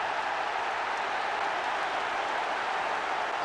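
A football stadium crowd roars steadily after a goal, a broad, sustained wash of cheering and clapping with no break.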